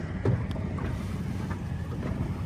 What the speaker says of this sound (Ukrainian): Човники. Човники ходять.